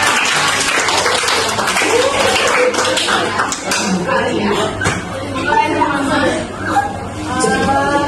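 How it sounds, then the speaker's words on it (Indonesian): Applause from a seminar audience at a business talk, a broad patter of many clapping hands mixed with chatter and light laughter, with a voice speaking over the clapping toward the end. "Tepuk tangan semuanya"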